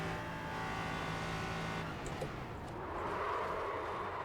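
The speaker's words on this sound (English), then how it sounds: "Let's hit 150 and then slam on the brakes." An LMP3 race car in the iRacing sim holds a steady engine drone, then brakes hard with the engine note dropping sharply and faint tire noise, heard alone without talk.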